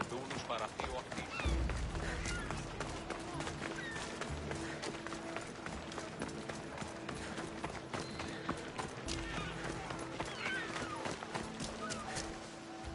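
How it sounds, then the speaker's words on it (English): Galloping horse hooves in the video game Assassin's Creed, a rapid, continuous drumming of hoofbeats blended into a dense bed of game ambience, steady and moderately loud throughout. "That's a nice horse"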